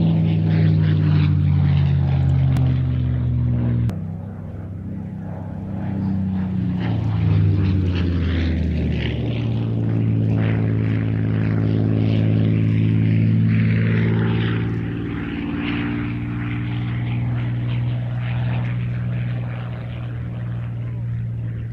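A Russian Spitfire propeller aircraft flies by loud and steady, its droning engine tone shifting in pitch as it passes, with a faint voice briefly underneath.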